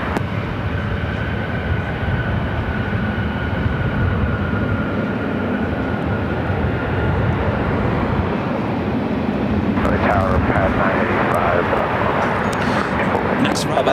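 An airliner lands on runway 24 right at LAX with a steady, loud, low roar of jet engine and rushing air for about fourteen seconds, a brighter whine joining near the end, with faint voices underneath.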